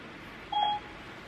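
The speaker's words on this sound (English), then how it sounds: "my phone is over there. Y'all heard that, right?" A phone gives off a single short electronic beep, a clear tone lasting about a quarter second that stands out against quiet room background with no talking.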